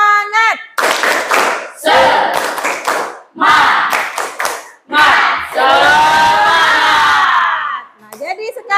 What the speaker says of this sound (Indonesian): Oke, tepuk semangat sekali lagi.